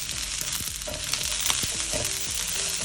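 Chopped onions fry in hot oil in a pan for a Tamil masala fish fry, giving a loud, steady sizzle broken by short scraping stirs and clinks of a utensil, with no talking.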